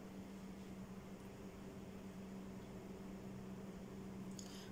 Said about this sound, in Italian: questi sono i ventilatori e l'aria condizionata.